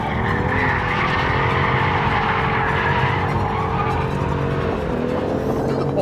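A BMW M2 CS (F87) sliding sideways, its engine holding a steady, loud, close roar over a continuous hiss of tire squeal for several seconds, with no voices.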